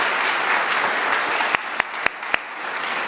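Audience at a university lecture applauds steadily, a dense wash of clapping from a seated crowd, with a few sharper close claps standing out near the end.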